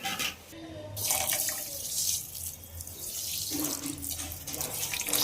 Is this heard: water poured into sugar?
yes